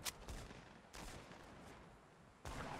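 Fortnite Battle Royale gunfire, several sharp bursts of shots at fairly low level, spaced apart with quieter gaps between them and no talking.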